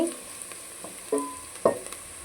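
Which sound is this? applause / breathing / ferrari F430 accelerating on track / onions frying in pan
onions frying in pan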